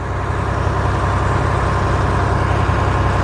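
A tractor engine runs steadily during harvest unloading, a loud, low, continuous rumble with a regular throb and no speech.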